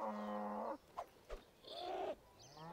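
Video game cows moo loudly in a brief series, with a long low moo, a couple of short thuds, then another drawn-out moo and the start of a rising call, with no talk over it.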